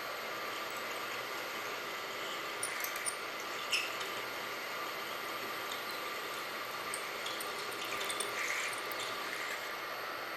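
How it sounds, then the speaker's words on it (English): A Tapmatic automatic tapping head cuts threads into a series of five holes, giving a steady mechanical whir with a few faint clicks and brief spikes over a constant machine-shop drone. "We got 5 holes that we'll be tapping"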